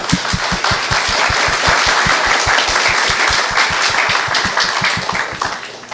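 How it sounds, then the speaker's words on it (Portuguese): An audience claps at a physiotherapy gathering, with dense applause and a strong regular beat of rhythmic clapping running for about six seconds before fading slightly at the end. "Também acho que o seu Carlos merece palmas mesmo."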